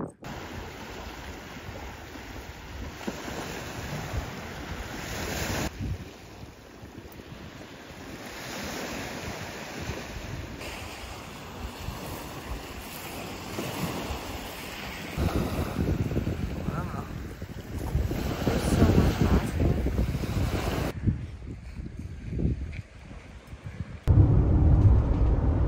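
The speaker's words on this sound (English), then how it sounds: "It's a little windy. We're right on the ocean though." Ocean surf rolling in at the shore beside a parked camper in Victoria on Vancouver Island, with steady wind noise buffeting the microphone throughout and the wave wash swelling louder toward the end.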